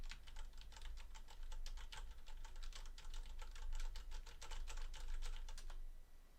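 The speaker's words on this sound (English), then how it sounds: "here's a sample if you're typing on a keyboard" Fast, continuous clacking of keys on a mechanical keyboard, recorded through a Tonor condenser microphone, an even rapid patter of clicks heard up close, with a low background hum and no voices.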